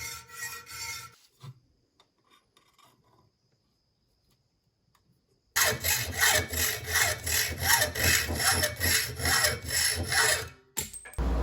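A bandsaw cuts a notch into the annealed steel tang of a parrying dagger. After quiet, loud, close rasping cutting runs for several seconds with a pulsing texture, then stops abruptly.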